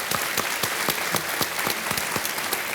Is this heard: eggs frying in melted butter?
no